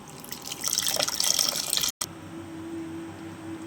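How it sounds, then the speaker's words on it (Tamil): Tamarind water pours and splashes into a pot of rasam for a couple of seconds, then stops abruptly, leaving a low steady hum. "கூடவே புளி தண்ணி சேர்த்துக்கலாம்"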